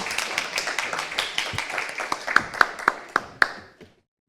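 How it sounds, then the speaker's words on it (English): Audience clapping as three panelists are welcomed onstage at an AI and robotics certification forum; a rapid patter of many hands swells into several sharper, louder claps near the end before cutting off. "Please, a warm welcome and an applause."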